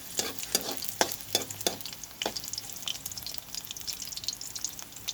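Garlic fries in a pan as a utensil stirs it. Several close scrapes and taps sit over a steady, soft sizzle.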